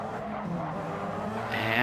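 A Gran Turismo 7 race car brakes hard on track, with a loud, steady engine and road roar and a high tire squeal rising near the end.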